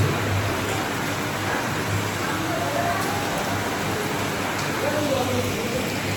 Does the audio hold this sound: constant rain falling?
yes